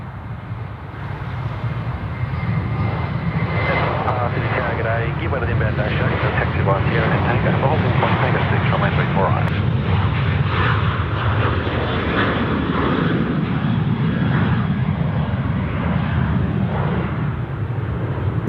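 International jet airliner landing on runway 34 right at Sydney Airport, a broad rumbling engine roar that builds and holds steady, fairly close, with voices talking over it.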